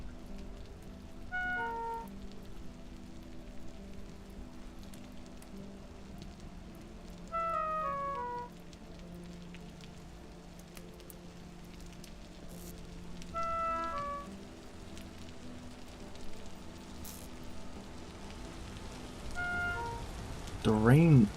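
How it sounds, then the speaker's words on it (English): Rain falls in the Minecraft video game as a steady, soft hiss that runs throughout, with sparse chiming game-music notes drifting in at intervals. "The rain has been going on for so long though"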